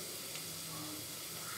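Onions frying in hot oil in a pan for vegetable khichdi, giving a soft, steady sizzle and hiss that stays fairly faint and even throughout.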